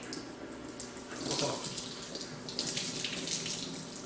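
Water squeezed from cauliflower wrapped in a towel trickles and splashes steadily into a sink, a continuous close-up running sound with a brief surge partway through.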